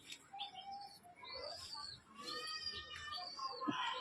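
Large pigeons, a male and a female, coo and chirp softly at close range in short, irregular calls, with faint rustling between them.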